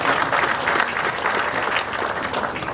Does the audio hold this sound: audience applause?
yes